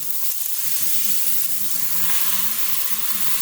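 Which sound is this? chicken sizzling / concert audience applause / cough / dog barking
chicken sizzling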